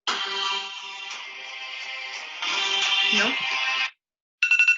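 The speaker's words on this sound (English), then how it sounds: "If you are asking yourself, yes, it's from Game of Thrones, my ringtone." A phone ringtone playing the Game of Thrones theme: a tonal, melodic electronic tune sounding close and fairly loud for about four seconds, then a short silence and another brief burst of the melody, with no talking.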